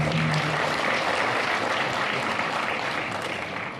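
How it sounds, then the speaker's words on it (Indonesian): A forum audience at a West Java development event claps in steady, dense applause throughout, fading slightly toward the end. "Tepuk tangan kepada"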